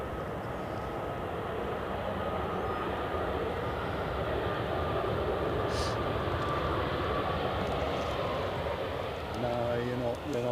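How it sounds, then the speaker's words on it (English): A Ryanair airliner from Krakow arriving at Edinburgh Airport makes a steady, broad engine roar that holds at a constant level throughout, with a brief murmur of voices near the end. "This is Ryanair from Krakow."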